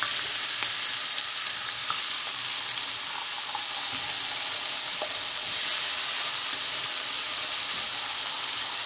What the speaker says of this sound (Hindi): हम सलामी को जो है वो फ्राई कर सकें